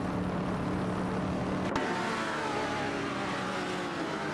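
Racing cars, including a Lamborghini and a Ford Falcon XB GT, roar in a computer-controlled racing video game, a continuous loud engine drone with shifting pitch and a brief sharp click midway, no voices.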